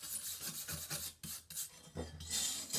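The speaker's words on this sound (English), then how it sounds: "we're going to scrub these guys up here. Just got a little wire brush" A small wire brush scrubs mower blades clean in quick, rhythmic back-and-forth strokes, a raspy scratching with short pauses between passes, close and fairly loud.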